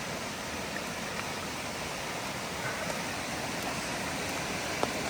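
Storm runoff surges downhill like a river during Tropical Storm Debby, a steady, dense rushing wash of water with no break.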